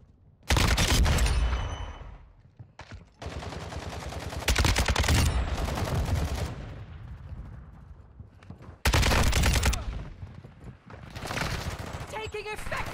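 Heavy bursts of automatic gunfire from an RPK light machine gun in the video game Modern Warfare 2, loud rattling volleys separated by quieter gaps, with voices talking between and over the shooting.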